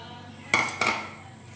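Two quick clinks of a utensil against a bowl while cucumber raita is mixed, close and fairly bright, each clink ringing briefly before fading.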